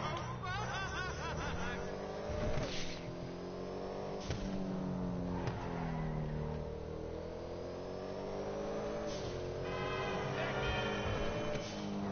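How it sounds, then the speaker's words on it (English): A Benefactor car engine in GTA Online revs and drones continuously, pitch climbing and dropping as it accelerates and shifts, with someone talking over it. "I also really like the engine sound of this car."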